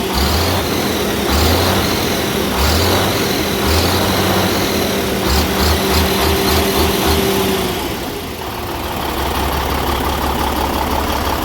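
A Cummins N14 diesel engine runs close by, idling with a rhythmic, pulsing knock in short bursts, then settling into a smooth, steady idle after a brief dip.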